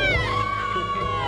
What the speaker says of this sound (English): At every turn, there's a cheer.